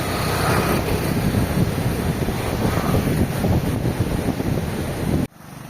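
Heavy wind from the habagat monsoon buffeting the microphone over a continuous roar of slamming surf on an island coast, loud and close, cutting off abruptly near the end.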